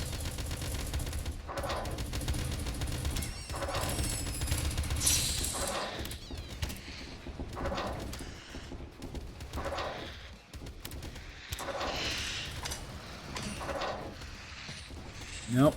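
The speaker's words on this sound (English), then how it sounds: "Oh, that's a machine gun, right?" Bursts of machine gun fire in the train combat game Doomtrain, loud and dense with repeated rattling volleys over a constant rumbling game soundscape, and a voice talks intermittently underneath.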